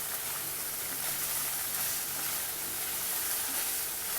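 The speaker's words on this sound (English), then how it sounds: "After that, put the paneer to fry." Paneer frying in a pan with onions for paneer posto, a steady bright sizzle and hiss, moderately close with no talk.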